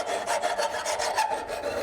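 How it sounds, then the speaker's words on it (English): A hand file rasps over a steel punch forged from rebar in steady back-and-forth strokes, about six or seven close, scratchy passes heard alone. "Now I'm just going to take a hand file."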